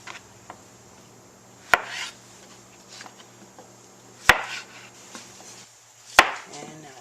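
Knife rough-chopping squash on a cutting board, three sharp, close chops spaced a couple of seconds apart, with quiet handling and scraping sounds between them.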